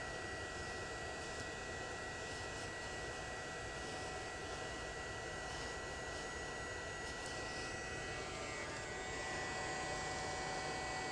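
A heat gun warming white-letter material on a tire gives a steady, even blowing hiss and whir that holds at an unchanging level throughout, fairly faint and with no talking.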